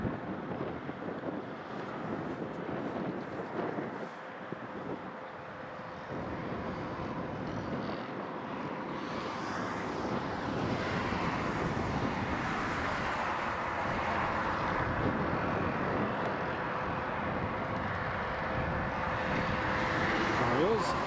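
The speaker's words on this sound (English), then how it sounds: "the Ryanair is coming back in now" A Ryanair airliner coming in to land at Prestwick Airport gives a steady broadband roar that slowly grows louder over about twenty seconds, mixed with wind buffeting the microphone and a faint voice now and then.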